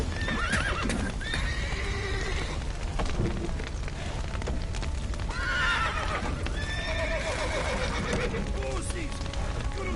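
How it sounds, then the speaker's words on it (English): Several horses neigh and whinny loudly in repeated bursts amid clopping hooves, rain-like noise and shouting voices in a chaotic scene where a roof has collapsed. "Horses! Put 'em in the house!"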